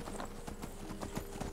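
Horse hooves clip-clop at a steady walking rhythm while riding in the video game Skyrim, quiet and even with no talk over it.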